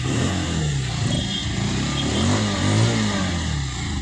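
A Bajaj Pulsar 150 BS6 motorcycle engine with a self-start problem runs loud and close, its rumble rising and falling slightly as it revs, with no voices.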